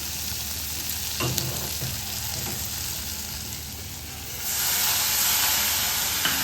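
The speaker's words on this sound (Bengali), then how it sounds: "এই যে এবারে এর মধ্যে সামান্য একটু আমি জল দেবো" Boiled toor dal frying in a hot pan hisses and sizzles steadily, with a few stirring knocks early on, then a louder, brighter surge of sizzle and steam as a little water goes in.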